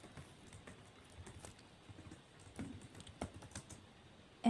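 Quiet, rapid clicking of a computer keyboard as Python code is typed for a beginner project, a soft continuous patter of keystrokes in a quiet room with no talking.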